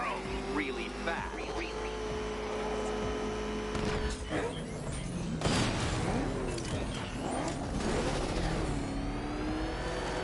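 The Batmobile engine in Batman: Arkham Knight revs and roars steadily for about ten seconds, with shifting pitch and mechanical clunks. A voice talks over it throughout.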